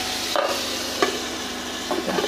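Steady sizzle of rohu fish frying in a pan on an induction cooktop, a continuous hiss with a few soft clinks and stirring sounds.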